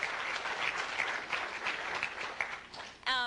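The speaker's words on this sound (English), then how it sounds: "can we clap?" A synthetic biology conference audience claps in a steady, full round of applause that tapers off and cuts to a brief voice at the end.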